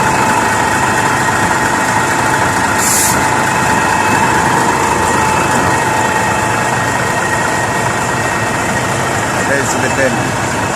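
A bus's large BB115 engine idles steadily and loudly, with a constant low rumble and vibration throughout and no break.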